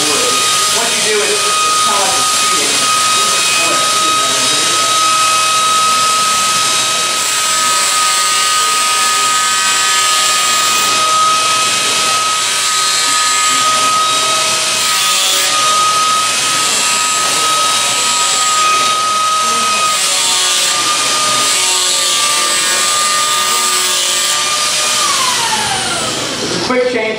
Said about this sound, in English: Now move on to the power chisel.